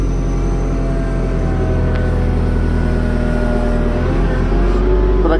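A heavy diesel engine of a 2016 JCB 3CX backhoe loader drones loudly and steadily at raised revs of about 1400 rpm while turning, a dense continuous rumble with a slight swell near the end.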